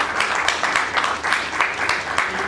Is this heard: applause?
yes